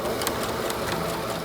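A sewing machine runs steadily, laying fine, closely spaced stitches along a preschool backpack strap, with a continuous whirring motor hum and rapid needle ticking throughout.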